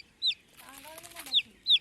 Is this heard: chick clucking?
yes